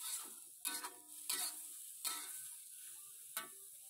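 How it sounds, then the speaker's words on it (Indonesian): Coconut milk stirred in a cooking pot for papaya masak lemak pedas gives faint, close scraping sweeps and a few clicks from the utensil against the pot over a soft sizzle, with no talk. "Oke, masukkan santan, kacau sekejap."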